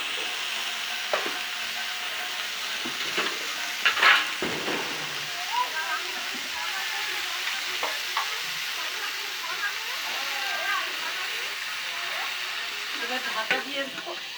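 Food fries with a continuous sizzle in a pan whose lid is lifted, and it is stirred with scraping strokes and a clatter near the start; a voice speaks faintly in the background.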